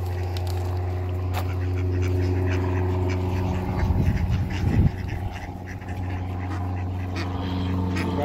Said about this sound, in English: A big flock of ducks.